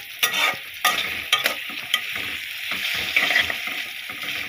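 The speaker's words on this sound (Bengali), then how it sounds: "আমি এখন পেঁয়াজ মরিচগুলোতে লাড়িয়ে চাড়িয়ে নিচ্ছে।" Onions and green chillies frying in a pan are stirred and tossed, a steady oily sizzle broken by several sharp scraping and clattering strokes of the spatula, close up with no talking.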